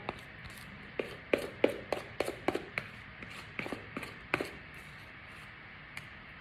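A spoon back scrapes strawberry cheesecake mixture from a bowl, a run of close, sharp taps and knocks at an irregular pace that thin out toward the end, with no talking.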